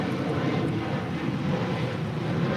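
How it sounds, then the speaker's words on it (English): United Airlines Boeing 737-800 jet departing LAX for Las Vegas: a steady, broad roar of jet engines, loud and constant throughout with some wind noise, no talk. "This is United Airlines 2449 departing to Las Vegas on a 737-800."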